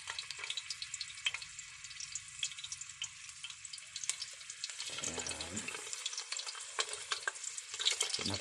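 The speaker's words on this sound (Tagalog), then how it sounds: "Bali, mag-prito na po tayo. Mainit na po yung mantika mga idol." Fish paksiw, vinegar-stewed fish, fries in hot oil with a loud, dense, continuous sizzle and crackle close by. Sharp pops break through now and then, and no one speaks.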